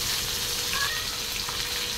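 A pregnant, agitated cat gives a short meow over the steady sizzle of fish frying in a pan nearby.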